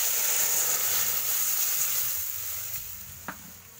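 Mustard-paste masala poured into a hot pan while cooking a bhola fish curry, a steady bright sizzle and hiss that slowly fades, close and fairly quiet, with a single small clink near the end.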